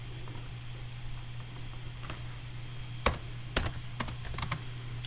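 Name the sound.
loud typing on computer keyboard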